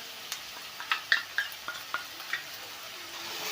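Masala with a little turmeric lightly roasting in a pan for a dhaba-style paneer bhurji, with soft scattered clicks and scrapes of stirring over a faint steady sizzle, no talk.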